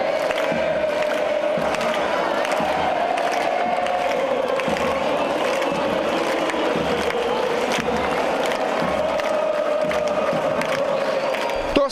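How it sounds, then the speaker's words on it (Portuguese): A football stadium crowd of Espírito Santo fans sings, cheers and celebrates with a steady, dense roar that carries on unbroken from start to finish, loud and close. "Com a bola rolando, a torcida capixaba fez festa."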